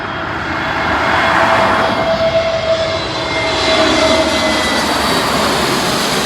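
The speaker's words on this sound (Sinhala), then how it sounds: "එයාබස් A380 ලෝකයේ තියෙන විශාලතම මගී ප්‍රවාහන ගුවන් යානයක් ලන්ඩන් හීත්‍රූ වලට ගොඩ බාන වෙලාව තමයි මේ දැන් ඔයාලට පේන්නේ" An Airbus A380 landing at London Heathrow gives a loud, steady engine roar that swells and holds. A faint whine rides over the broad rumble.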